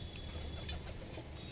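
Pakistani pigeons cooing softly at close range, low burbling calls over a steady background hum.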